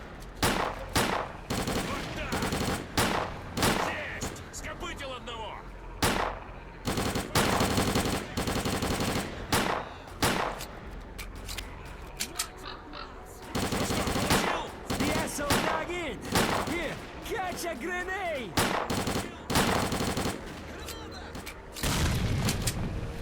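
Rapid gunfire from a pistol and other weapons in the S.T.A.L.K.E.R: Clear Sky game, played on Master difficulty in the swamps. The sharp, loud shots come in dense bursts and volleys with booms, under occasional speech.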